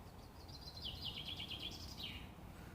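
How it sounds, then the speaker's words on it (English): Birds sing in a bluebell wood, one clear warbling phrase repeated in quick notes, moderately near over a soft, quiet background hush. "Listen to the bird song."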